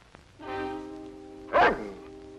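A single dog gives a short whining yelp, then one louder, sharper bark, fairly close in an otherwise quiet indoor setting.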